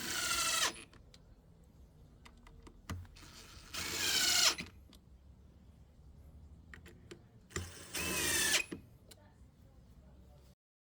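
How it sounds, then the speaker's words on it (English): A power drill whirs in three separate bursts, each rising in pitch as it drives a screw into wooden trim, with quiet pauses and faint handling clicks between. "We pre-drilled and screwed the top trim pieces in place."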